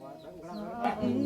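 Chicken clucking in a remote village, a short close series of throaty clucks with a rising squawk near the end.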